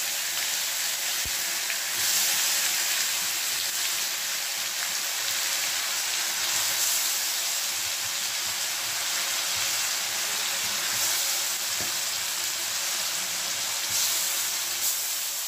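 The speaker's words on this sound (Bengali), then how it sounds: "মশলাটাকে ভালো করে কষিয়ে নিতে হবে" A spice masala with crushed cardamom, cloves and cinnamon fries in a pan for a cabbage curry, making a loud, continuous sizzle with scattered crackles and spatters throughout.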